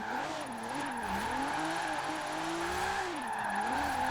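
A Nissan 300ZX with a modified, non-stock engine drifts in Forza Horizon 4, its engine note wavering up and down through the slide under a sustained, loud tire squeal.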